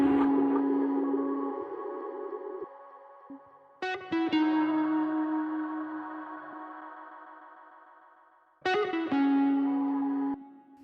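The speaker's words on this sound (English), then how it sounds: "it's a bunch of vocals that are chopped up, and then I added reverb to it just to open things up." Chopped-up vocal samples drenched in reverb, held tonal voice fragments restarting in abrupt slices with long washy tails, heavily processed and playing alone.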